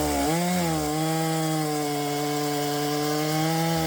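A Stihl 461 chainsaw cuts through firewood being broken down into turning blanks, its engine revving up briefly and then holding a loud, steady, close droning whine throughout with no talk.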